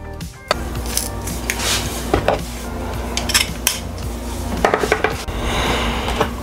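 Garlic cloves are crushed in a kitchen, heard as close clinks, knocks and scraping of a utensil against a dish, in an uneven rhythm with several sharper taps.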